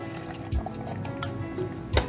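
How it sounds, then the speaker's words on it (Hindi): Water poured into a peach lemonade mix with lemon juice and crushed ice, a soft trickling pour with small splashes and clinks, near and fairly quiet. "और अब मैं इसमें ऐड कर रही हूँ थोड़ा सा पानी,"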